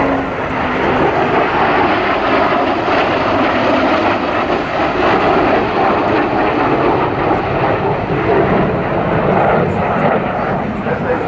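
An English Electric jet bomber flies over at the RAF Cosford airshow, producing a loud, continuous jet roar that fills the whole stretch while a commentator talks over it.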